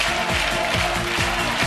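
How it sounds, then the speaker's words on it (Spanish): Audience applause at a televised rabbit race with carrots in a summer game show, a dense steady roar of clapping and cheering from the crowd filling the whole moment at even loudness. "La ovación del público para los conejos."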